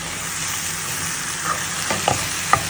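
Handfuls of fresh greens frying in a pan for a creamy Tuscan chicken dish, a steady low sizzle with a few soft stirring clinks near the end.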